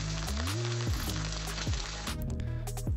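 Bacon sizzling in a pan, generated by AI, gives a steady loud frying crackle throughout, under swooping synthetic tonal sweeps and background music rather than alone.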